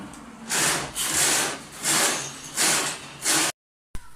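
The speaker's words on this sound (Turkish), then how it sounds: "mutfak giderini gördüğünüz gibi makineyle açıyoruz" A drain cleaning machine works to unclog a kitchen drain, grinding in five rhythmic, loud surges, each about half a second long, followed by a brief silence.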